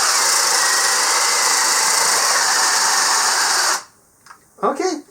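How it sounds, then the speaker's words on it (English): Hart brushed cordless drill on a 2 amp hour battery driving a 1 1/8 inch speed bit through two stacked pressure-treated 2x4s: a loud, steady high whine and grinding roar for nearly four seconds, then it stops abruptly, followed by a brief bit of talk. "brushed motor. 2 amp hour battery, 1 1/8 inch speed bit, into 2 pressure treated 2x4s"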